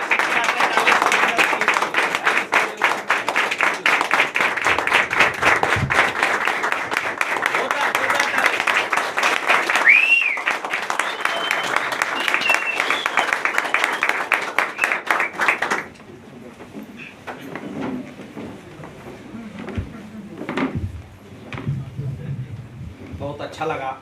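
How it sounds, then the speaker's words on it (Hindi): Loud, dense audience applause in a hall during a motivational business event, sustained for about fifteen seconds before cutting off abruptly, followed by quieter scattered sounds and talk. "मैं आपके जोरदार तालियों से, आपके स्टैंडिंग ओवेशन में मैं यहाँ पे"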